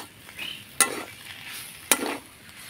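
A spoon stirs potato patty filling seasoned with Maggi masala in a kadai, two sharp scraping knocks against the pan over a soft background sizzle, close and with no voices.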